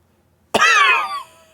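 One sharp cough bursts out of near silence, close and loud, trailing off into a rasping breath; a voice imitating coughing.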